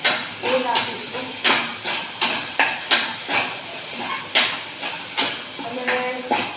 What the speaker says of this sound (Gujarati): હવે એની અંદર 1 મેં નાની સાઈઝની ડુંગળી નાની કાપીને રાખી છે, એ નાખીશું